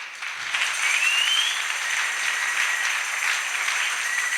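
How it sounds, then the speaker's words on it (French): A church congregation applauds together, steady broadband clapping held at an even level throughout, near and full, with no talking over it. "On acclame."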